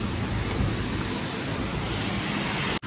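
Heavy rain pours steadily on a hillside during a cycling tour, a dense, loud and continuous hiss that holds unbroken from start to end with no voices.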